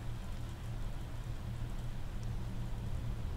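Steady rain in the survival game Planet Crafter, a soft continuous hiss of falling drops with a low rumbling undertone, even and unbroken throughout.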